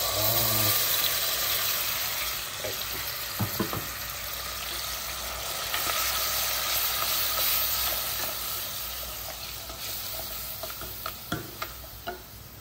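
Blended onion hitting hot oil for a Malaysian kari ambal, a steady close sizzle and fry with a few sharper crackles and spoon clicks near the end, no talk.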